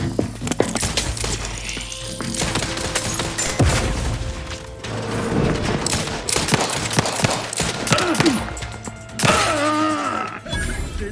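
A grenade is thrown and explodes during combat in The Outer Worlds 2, amid sharp bangs, gunfire bursts and crashing impacts with a booming blast near the end, loud and chaotic.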